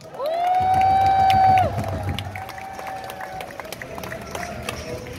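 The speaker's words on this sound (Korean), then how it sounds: "김종호 청주사랑의 박수 한번 보내주십시오" A crowd at a political rally in Cheongju cheers loudly and fairly close, with one long sustained shout rising above the noise early on, then fading into a lower, scattered murmur of voices and cheers.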